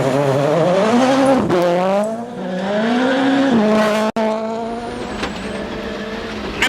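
A rally car screams along a special stage of the 2011 Rally de Portugal, engine climbing through gear changes with rising and falling pitch, loud and close, with a brief sharp cut before it pulls away again.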